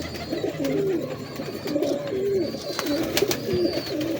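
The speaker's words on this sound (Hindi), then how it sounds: "बड़ा तगड़ा कबूतर है।" Pigeons cooing close by, a series of soft, rolling coos repeated throughout, with a few sharp clicks and some background noise.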